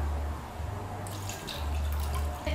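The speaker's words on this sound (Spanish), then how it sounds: "le voy a poner media taza de agua" Half a cup of water poured into a bowl of jelly, a steady liquid trickle with a brighter splashing burst partway through, set against a low background hum.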